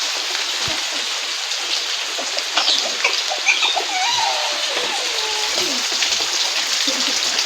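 Steady rain falls outside on a wet morning, a continuous close hiss with scattered drips, while birds chirp faintly through it.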